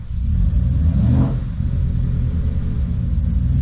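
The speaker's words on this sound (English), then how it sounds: "But that's not me revving it. The truck is doing that on its own." A truck engine with a faulty sensor surges on its own, rising to a loud, rumbling rev and then dropping back to a heavy, steady idle, close-up with no talking.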